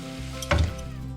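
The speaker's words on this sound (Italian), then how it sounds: "Ecco che le andiamo a togliere dall'olio bollente e andiamo a mettere le altre." Sicilian cuzzole dough in boiling oil, a soft continuous sizzle broken at about the half-second mark by a sharp, louder crackling burst and clatter as pieces go in or come out, then settling back.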